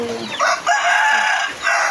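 Hungry chickens and a rooster call close by, loud overlapping clucks and a crowing burst filling the whole short stretch.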